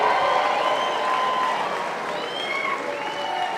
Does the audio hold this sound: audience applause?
yes